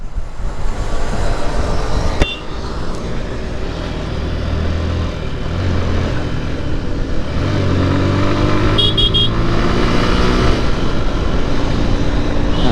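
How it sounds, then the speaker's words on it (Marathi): A truck drives along a narrow rural road lined with greenery during the monsoon, a steady engine rumble sounding close and continuous, with a brief horn toot partway through. "हा ट्रकवाला पण कसा मधून चाललाय."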